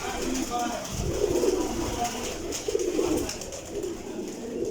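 Pigeons, including teddy and diamond breeds, coo softly and steadily in a loft, with low murmuring calls layered under faint background noise.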